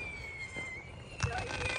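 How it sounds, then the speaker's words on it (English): Fourth of July fireworks pop and crackle at a distance over a steady outdoor background with a thin tonal hum, with a denser burst of crackling near the end. "To get fireworks, we can shoot them off right here."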